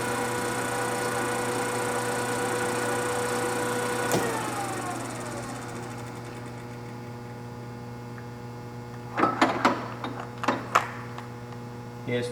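A Deckel FP2 milling machine running at 40 RPM gives a steady, even electrical hum and whine, with a few sharp mechanical clicks and knocks near the end.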